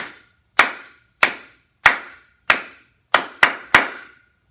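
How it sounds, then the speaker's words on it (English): A repeated two-measure rhythm of crisp hand claps, eight in all, mostly even with a tight quick pair near the end, loud and close with a short room decay after each. "1, 2, I'll clap it again."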